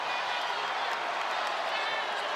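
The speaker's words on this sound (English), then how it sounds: "Memphis crowd loves that." Memphis basketball arena crowd during a game against Arkansas, a dense steady roar of cheering and applause filling the whole stretch without a break.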